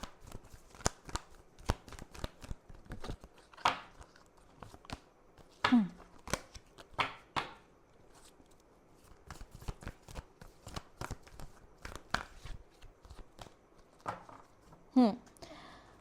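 Tarot cards are shuffled and drawn for a pick-a-card reading: a series of crisp, close riffling and slapping bursts, irregularly spaced with brief pauses, some sharper and louder than others. No voice is heard.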